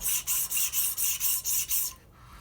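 An obsidian arrowhead's platform being ground with an abrasive, a steady rasping scrape in eight even back-and-forth strokes, close and fairly loud, then a quiet pause.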